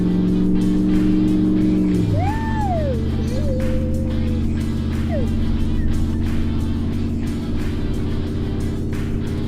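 A 2019 Ram Rebel pickup truck accelerates along a beach, its engine a loud, steady drone that shifts up through a gear change, with a brief whistle-like tone riding above it, sustained and close throughout.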